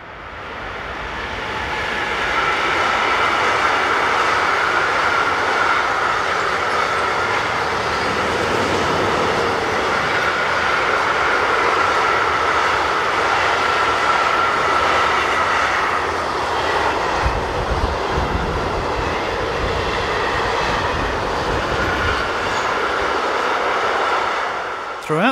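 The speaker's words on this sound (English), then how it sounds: "185067 rounds the curve powering EZ51681 from Nürnberg to Maschen near Hamburg" Class 185 electric locomotive 185 067 hauls a freight train from Nürnberg to Maschen around a curve, a loud sustained roar and rumble of wagons that swells in and holds steady for over twenty seconds.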